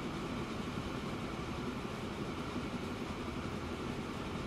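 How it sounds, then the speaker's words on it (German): A train rolls along in the transport simulation game Transport Fever 2, a steady, faint rumbling drone of rail wheels and engine with no variation or talk. "Und da vorne fährt der neue Zug."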